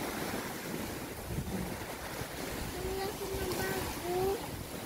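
Steady, broadband wind roar buffets the microphone outdoors, with surf-like rushing and a few faint tonal whistles; a voice is heard beneath it.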